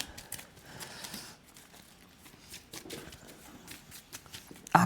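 A deck of cards is shuffled during a tabletop board game, with soft, quiet riffling and rustling bursts spread across the stretch and a sharper sound at the very end.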